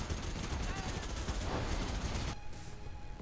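Dense artillery blasts and rapid machine-gun fire from a Command & Conquer Generals Evolution 2v2 battle, a continuous loud rattle of overlapping shots and explosions that cuts off abruptly near the end.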